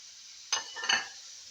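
Spices hitting hot ghee for chicken korma give two quick bursts of crackling sizzle with a clink of stirring, faint and brief against a quiet kitchen.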